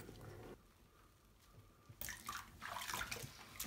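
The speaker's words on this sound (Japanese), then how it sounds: "それでは泡を洗い流していきます。" Water splashes and runs as foam is rinsed from a four-month-old kitten during a bath, quiet at first and then bursting into louder pouring and dripping.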